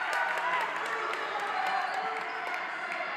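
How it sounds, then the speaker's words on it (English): A steady, loud roar of spectators fills a high school boys basketball gym during a PIAA Class A quarterfinal, Clarion against Bishop Carroll, with occasional sharp squeaks and knocks rising above the dense crowd noise. "Been a long time since we've heard a crowd into a ball game like this, and we love it."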